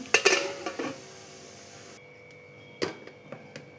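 A lid is set down over a pan of keema (minced meat), giving a short metallic clatter near the start and another light clink later, with quiet kitchen background between and no talking.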